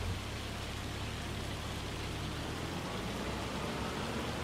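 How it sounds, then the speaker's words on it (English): Steady rain with hailstones in a farming video game, a continuous dense hiss of falling drops that fills the whole clip at an even level without talk. "Hopefully the rain stops as well,"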